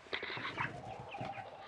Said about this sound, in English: So this is what roughly 120, maybe 110 birds looks like.